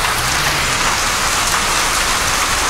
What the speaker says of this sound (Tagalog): Ano, laki ng yelo.